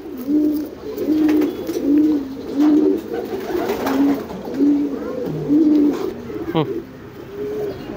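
A homing pigeon in a loft gives loud, close, rhythmic coos, repeated every second or so, with faint background voices.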